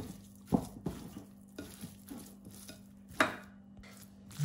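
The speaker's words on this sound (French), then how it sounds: "je vais venir bien mélanger l'ensemble" Popcorn chicken pieces being tossed with spices and oil in a bowl, quiet wet squelches and occasional sharper knocks against the bowl, close, soft and intermittent over a low hum.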